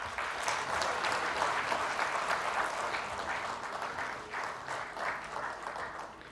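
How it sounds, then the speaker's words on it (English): Warm round of applause from a conference audience at an Indian entrepreneurship and IP conclave, a steady, moderately distant wash of many hands that thins slightly toward the end. "can we have a round of applause"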